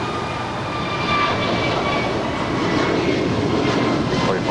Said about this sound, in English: American 608 off to Philadelphia on an A321neo